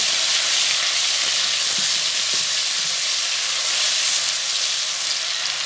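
Steady hissing sizzle of onions and finely chopped tomatoes frying in a pan, close and continuous, with faint stirring scrapes.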